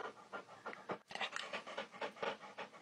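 Dogs pant close by in quick, rhythmic breaths, with a brief pause about a third of the way through before the panting resumes.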